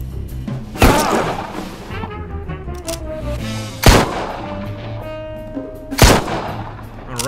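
Three loud, booming revolver shots ring out several seconds apart in the mafia strategy video game Empire of Sin, each followed by decaying echo, over a soft background music bed.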